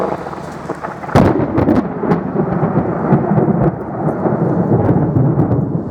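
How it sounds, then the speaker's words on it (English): Heavy rain pours steadily during a thunderstorm in Southport while a loud thunderclap cracks and rolls overhead, followed by continued rumbling through the downpour. "So whilst we're having this storm, we're just going to film a bit of it for you."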